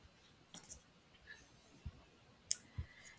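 A computer mouse gives a few sparse, sharp clicks at close range in a quiet room, spaced irregularly with one crisper click near the end, no voices.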